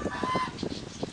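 A nesting goose honks in a short run of loud, close, nasal calls, with no talking.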